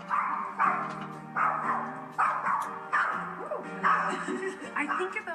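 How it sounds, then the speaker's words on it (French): A Chihuahua barks repeatedly in sharp, yappy bursts about every second, close and fairly loud, with some whining between barks. "Il n'arrête pas d'aboyer."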